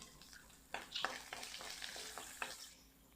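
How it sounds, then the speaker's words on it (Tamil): Onions and garlic fry quietly in a pan for vendakkai puli kulambu, a soft steady sizzle broken by regular scraping stirs of the spoon. "வெங்காயம் சேர்த்து நல்லா கோல்டன் ப்ரௌனாக வர வரைக்கும் நம்ம இதை கிளறி விட்டுட்டே இருக்கணும்"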